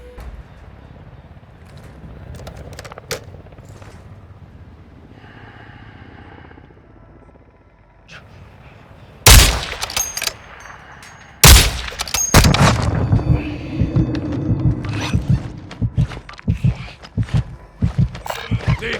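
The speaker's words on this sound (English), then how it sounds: "Did you hear the shotgun shot on the back of the building?" Shotgun blasts ring out in the video game Call of Duty DMZ, two loud sharp reports a couple of seconds apart, followed by a burst of rapid clattering gunfire and impacts, after a quieter stretch of scattered distant pops.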